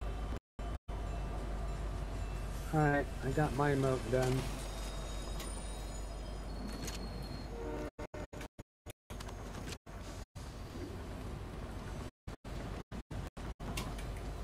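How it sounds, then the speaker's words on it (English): A train rumbles steadily in Fortnite gameplay, a continuous low rolling drone with brief clanks and small beeps, while a player talks briefly over it and the sound drops out in short gaps. "I'm still on the train."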